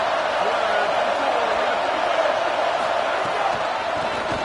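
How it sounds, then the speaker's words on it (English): Football stadium crowd roaring at a Clemson game, a loud, dense, continuous wash of cheering that fills the space throughout. "This crowd trying to show them what it's going to be like all day in this house."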